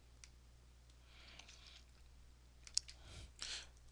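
Computer mouse clicks while working in database report software, a few faint, sharp isolated clicks over a low steady hum, with no talk.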